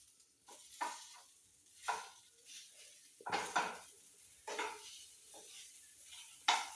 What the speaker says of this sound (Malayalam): ഇനി നമുക്ക് നല്ലോണം ഇളക്കി കൊടുക്കാം.